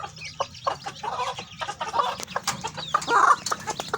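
A kukuak balenggek hen clucks softly among her nine chicks, with short close clucks and faint peeping scattered over a quiet background.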